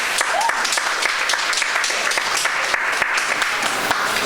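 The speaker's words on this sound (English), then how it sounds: "So you deserve a round of applause." Applause from a large turnout at an annual mental health seminar, a continuous wash of many hands clapping with a few sharper nearby claps standing out.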